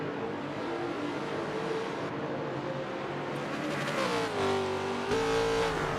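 Holden and Ford touring cars of the 1970s racing through a tight chicane, engines droning steadily then revving higher as they accelerate out, a continuous loud motor roar with no talk.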